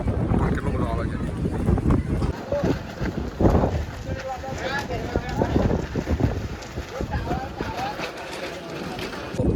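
Strong monsoon wind gusts across Pavagadh hill, roaring and buffeting the microphone continuously while people talk nearby.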